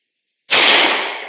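A 10mm pistol fires a single 200 grain hardcast lead round, one sharp loud crack with a short decaying tail.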